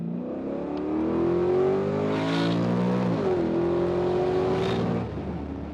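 A Mercury Marine SB4 marine V8 fitted in a Chevy Caprice revs hard and close, its loud engine note climbing in pitch, dipping briefly, then climbing again before easing off.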